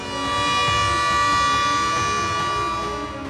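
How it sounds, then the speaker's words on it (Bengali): A civil defence air raid siren sounds during a wartime-preparedness mock drill on a Kolkata street, holding a loud, steady wailing tone with no voices. "সকাল 9টা নাগাদ বেজে ওঠে এয়ার সাইরেন।"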